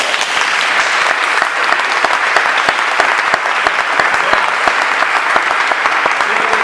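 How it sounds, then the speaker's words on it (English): An audience at a church community event applauds with dense, even clapping that holds steady at a strong level for nearly seven seconds without a break. "Give them another round of applause."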